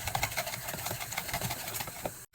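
A spoon briskly stirs flourless pancake batter with cornstarch in a bowl, making quick, steady scraping and sloshing strokes close by.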